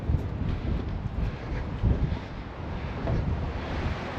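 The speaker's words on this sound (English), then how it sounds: "It's going to get a bit windier." Wind blows across an open hilltop in gusty, rumbling bursts that buffet the microphone, rising and easing irregularly over a few seconds with no voices.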